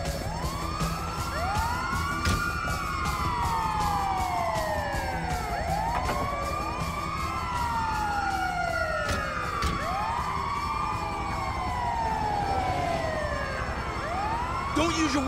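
An ambulance siren in GTA V wails in repeated rising and falling sweeps throughout while the vehicle drives, steady and loud, with engine rumble underneath and voices talking over it.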